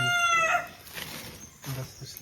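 A rooster crows once near the start, a clear, loud call from nearby at a home setting, and a voice follows a moment later.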